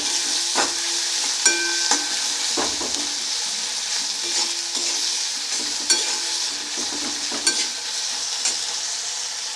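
Green chillies fry with a steady sizzle in a pan while a spatula stirs them, giving repeated scraping strokes and light knocks spread across the whole stretch.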